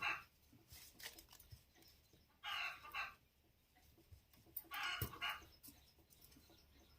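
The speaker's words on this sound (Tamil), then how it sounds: "கோழி இதே மாதிரி தாங்க கத்திக்கிட்டே இருக்கும் அந்த சேவல்" A rooster crows repeatedly in a rural yard, with three loud, drawn-out calls spaced a couple of seconds apart and quieter clucking and faint background noise in between.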